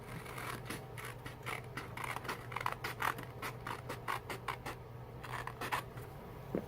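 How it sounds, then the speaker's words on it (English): Scissors cutting out a paper vase shape, a rapid series of crisp snips and paper rustles over a faint steady hum, close and fairly quiet. "And then we're just going to cut this out."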